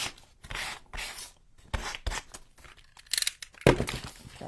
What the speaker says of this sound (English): take your very, very light sandpaper, like 320 grit, and just sand over it